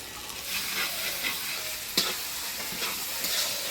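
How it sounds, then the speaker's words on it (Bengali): Spice paste of cumin-ginger paste, salt, turmeric, crushed garlic and green chillies sizzles in a pan as it is stirred, giving a steady hissing fry with brief scraping clatters of the spoon, close and alone. "মশলাটা ভালো করে নাড়াচাড়া করে নিলাম।"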